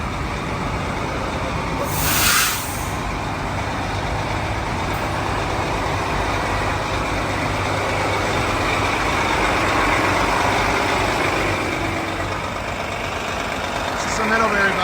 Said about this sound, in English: I got bus 5832, this is mine right here, which is a Prevost, built in Canada.